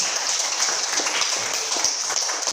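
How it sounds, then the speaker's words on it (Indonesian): A classroom of students at STK Santo Yakobus Merauke claps together in a brisk, even patter that holds steady throughout. "Tepuk tangan untuk kalian."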